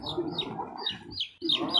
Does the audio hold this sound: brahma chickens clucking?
yes